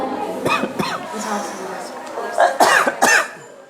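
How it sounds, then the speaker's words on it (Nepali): A few sharp coughs, close by, in a loose cluster near the end, after some brief vocal sounds at the start. "खोकी गरेको छु।"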